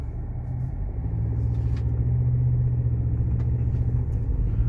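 A Ford Ranger Raptor pickup's engine rumbles steadily off-road on gravel, a deep continuous low drone that swells slightly and holds, heard from inside the vehicle with no talking.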